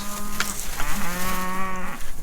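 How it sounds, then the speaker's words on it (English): A loud, close cow on a cow/calf farm bawls in one long, drawn-out moo that rises and wavers before trailing off. "Oh, they bawl as soon as we show up."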